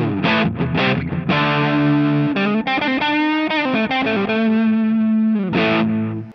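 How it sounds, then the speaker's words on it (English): A Mooer GTRS S800 electric guitar, set to emulate a 58 Les Paul with its humbucker tone, plays a distorted lead phrase of held notes and quick slides, loud and upfront with no talking. "It's got a little bit more of that classic humbucker tone that a Les Paul is known for."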